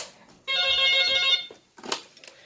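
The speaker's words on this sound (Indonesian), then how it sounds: "aduh ada telepon" A telephone bell rings once in a steady electronic burst lasting under a second, loud and close, followed by a brief rustle or voice.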